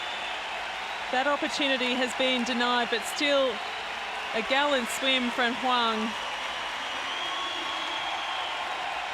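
Crowd applause at a Paralympic swimming event in Rio, a broad, steady hiss of clapping from a large indoor audience that runs under a commentator's voice and continues after he stops.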